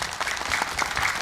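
A studio audience at an Islamic talk show applauds a guest preacher, giving a dense, even burst of many hands clapping, close and fairly loud, lasting just over a second.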